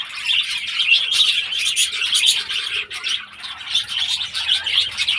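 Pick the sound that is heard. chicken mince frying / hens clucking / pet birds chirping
pet birds chirping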